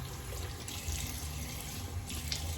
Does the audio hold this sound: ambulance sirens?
no